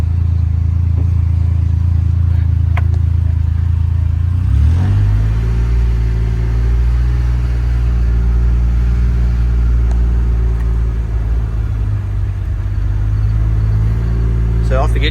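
Polaris Ranger XD 1500 utility vehicle engine, a 2024 model, idling as a low steady rumble, then shifting out of park and pulling away with a smooth, rising hum, heard from inside the cab.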